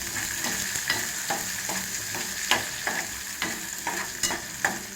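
Onion frying in a pan for drumstick sambar, a steady close sizzle broken by regular rhythmic stirring strokes about every half second.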